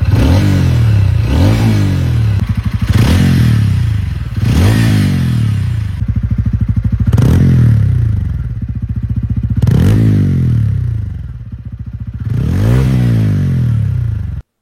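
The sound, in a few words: TVS Ronin motorcycle engine and exhaust note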